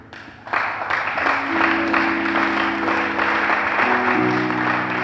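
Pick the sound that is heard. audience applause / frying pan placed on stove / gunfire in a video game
audience applause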